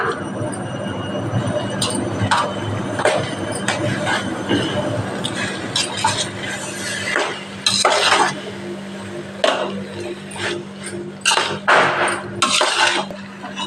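Noodles tossed with garam masala and salt in a pan scrape and clink under a utensil in repeated irregular strokes, close and fairly loud over a steady low background hum.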